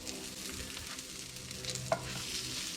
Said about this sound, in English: You can hear when things are sizzling versus, say, steaming.